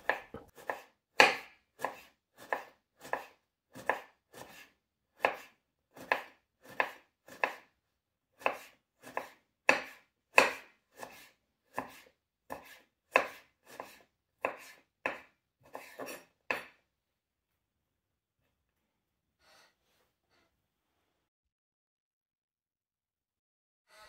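A knife slices turnip thinly on a cutting board in a quick, even run of about twenty sharp, close taps, then stops, leaving near silence.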